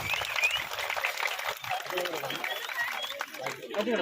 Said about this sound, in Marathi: बघा जरा सगळ्यांना टाळ्या वाजायला जमला तर जरा टाळ्याचा वाज